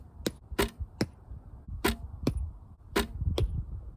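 Arrows shot one after another at an archery target, each release a sharp snap and thud, about six impacts spaced irregularly across a few seconds with a faint low background rumble and no talking.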